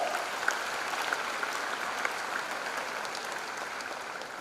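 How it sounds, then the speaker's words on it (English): An audience at a college freshers' induction program claps steadily at moderate distance, a dense, even wash of applause with no talk over it. "give them a big applause"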